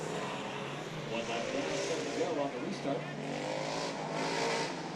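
Hobby stock race cars at the 2019 Nationals at Santa Maria Raceway, with the 5X car's engine buzzing hard: a continuous loud, rough engine drone rising and falling slightly as cars pass.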